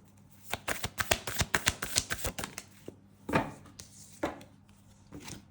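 Tarot cards shuffled and drawn: a quick run of crisp riffling snaps in the first few seconds, then a few separate slaps and slides as single cards are pulled and laid down, close and fairly quiet.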